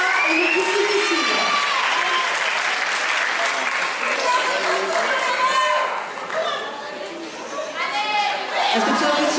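An audience at a beauty pageant applauds and cheers a contestant, sustained clapping mixed with excited voices and shouts, loud and continuous with a brief dip midway.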